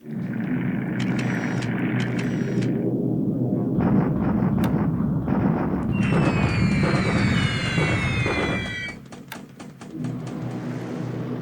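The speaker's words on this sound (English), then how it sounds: "more American bombers attacking Louisville" Rumbling explosions and bursts of gunfire from American bomber raids in the strategy game War in the Pacific, with layered booms, a rising whistling sweep and continuous low roar over about eleven seconds.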